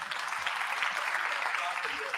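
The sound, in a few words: applause for the Global NRI Forum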